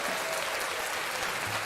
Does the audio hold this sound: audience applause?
yes